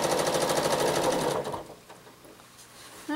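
A sewing machine doing free motion quilting runs in a fast, even stitching clatter close by. It stops after about a second and a half and leaves quiet handling sounds.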